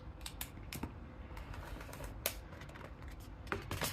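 Scissors cut through clear vinyl for sewing, a run of quick crisp snips and clicks close by, each short and sharp, spaced unevenly over a few seconds.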